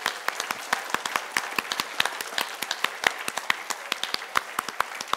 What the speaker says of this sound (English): everyone giving themselves a big round of applause